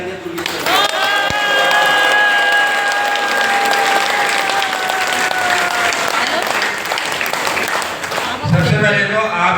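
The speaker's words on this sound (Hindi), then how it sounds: "तालियां बजा देंगे तो" A studio audience bursts into loud, sustained applause for several seconds, with a raised voice carrying over the clapping before it fades.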